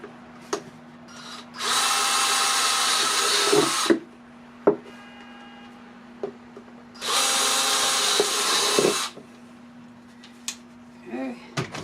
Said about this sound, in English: So we will drill our holes.